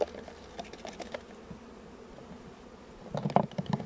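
Honeybees at an opened hive with icing sugar dusted on their backs, a soft steady buzz close by, growing a little louder near the end.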